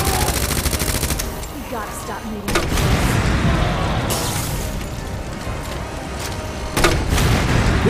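Grenade blasts and gunfire erupt during a Resident Evil 2 remake boss fight on PS4. Loud booming bursts land several seconds apart over a dense, continuous wash of combat noise.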